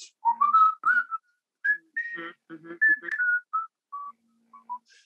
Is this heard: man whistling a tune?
yes